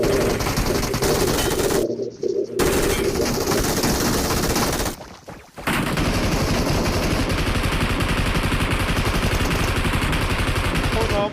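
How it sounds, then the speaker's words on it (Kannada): Rapid machine gun fire in a mobile shooter video game, dense continuous bursts broken by two short gaps, loud and close, with voices talking over the shooting. "ಅಮ್ಮ ಯಾವ್ದೋ ಒಂದು ಮಿಷಿನ್ ಗನ್ನು."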